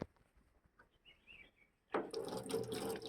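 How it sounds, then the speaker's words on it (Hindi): Cold water suddenly gushing from a tap at a roadside spring on a hill route near Almora, starting loud and steady partway through after a quiet stretch with faint birdsong. "पानी आता है दोस्तों, यहाँ ठंडा है, ठंडा पानी दोस्तों पी सकते हैं यहाँ से।"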